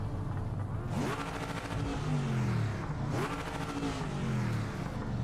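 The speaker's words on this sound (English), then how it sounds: "That's just free revving it." A race car engine in Project Motor Racing is free revved in two loud, rising-and-falling sweeps, close and continuous with no one speaking.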